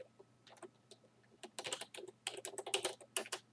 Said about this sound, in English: you will type in the words running